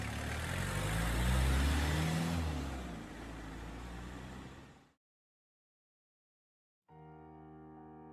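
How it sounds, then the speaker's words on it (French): A car speeds away from a house in a Resident Evil radio drama, its engine loud and close for about five seconds, swelling then fading before silence and a swell of music. "Ils sortent de la maison en courant et grimpent dans leur voiture, qui s'éloigne à toute allure de la maison."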